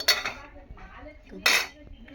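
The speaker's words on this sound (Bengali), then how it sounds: "এই যে ভাতটা ঢেলে নিছি আমি" Cooked rice tipped out of a pot during home cooking for fried rice, giving two bright metallic clinks of pot against utensil with a quieter scrape between them, close up and with no talk.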